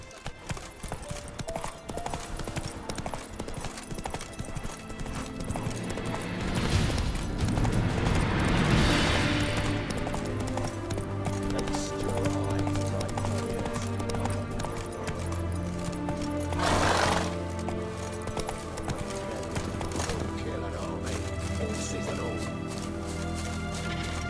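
Hooves of Roach, a horse in The Witcher 3, clip-clop in a steady galloping rhythm for the whole stretch, with a louder rushing swell midway and a brief burst later, under game music and ambience.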